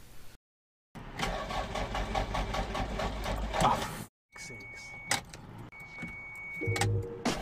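A Toyota MR2 Turbo, neglected and then repaired, cranks and fires up, its engine running roughly close by, then cuts out. A few more brief bursts of activity follow, with a high whine and some clatter near the car.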